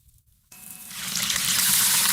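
Chicken pieces dropped into stale, old cooking oil start up a sudden sizzle that swells into a loud, steady hiss of frying, with a brief quiet moment before the food hits the oil.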